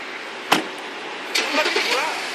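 A car engine is started: after a sharp click, the engine cranks and catches, then settles into a steady running hum, close by.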